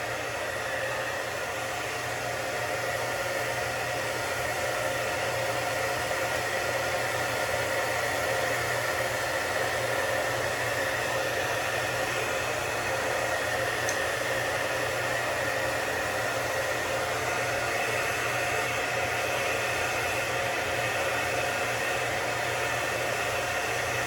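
Handheld hair dryer running steadily on its cool setting, blowing air over a styled beard; a loud, continuous airy whoosh with a low motor hum that holds unchanged throughout, no talking.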